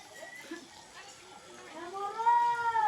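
A cat named Bunga gives a drawn-out, rising meow close by, after faint earlier mewing and soft household noise.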